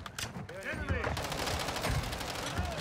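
Rapid automatic gunfire from a 60-round magazine in the Call of Duty MW3 video game rattles in dense, continuous bursts, with faint voices in the background.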